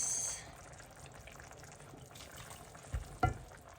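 Fish sauce (patis) poured into a pan of cooking food, a soft liquid splash and sizzle over a low frying hiss, with a couple of brief louder pops near the end, fairly quiet and close.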